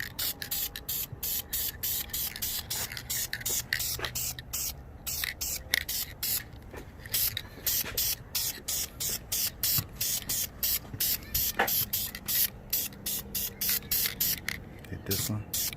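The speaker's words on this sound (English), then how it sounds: "Right now, you can put that spray coats on there pretty good and thick if you want." Satin clear coat sprayed from an aerosol can onto the front brake calipers of a 2004 Suzuki GSXR 1000, heard as rapid repeated short hissing bursts close to the microphone, with someone talking over parts of it.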